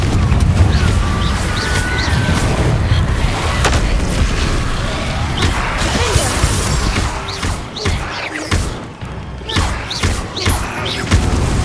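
The Confringo blasting spell explodes in Hogwarts Legacy, producing loud booming and crashing impacts over a dense, continuous game soundscape, with repeated thuds and a rumbling tail.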